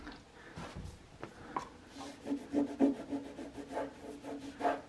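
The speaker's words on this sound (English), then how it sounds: "the rubbing alcohol just took that marker right off" A rag rubs marker off a chair with rubbing alcohol, giving a series of short scrubbing strokes in an uneven rhythm, close and fairly quiet, with no talk.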